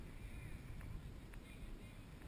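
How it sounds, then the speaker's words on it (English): Steady wind buffets the microphone in a constant low roar, with a few faint clicks and no clear speech, on Dauphin Island, Alabama. "because it is super windy"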